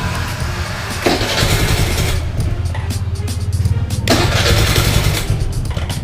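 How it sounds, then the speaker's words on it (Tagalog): Motorcycle engine being cranked and started after a GPS alarm has cut it off, a close, loud burst of cranking that catches into a rough idle, then a second start surge a few seconds later. "So try natin i-start kung i-start pa rin."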